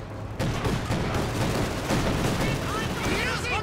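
Maxim machine gun fire in the Company of Heroes 2 battle game, rattling bursts of gunfire mixed with other battle noise, running steadily under a commentator's voice.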